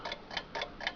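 A 1918 Waterbury wind-up alarm clock ticking softly and closely, four even ticks in one second with a steady mechanical rhythm.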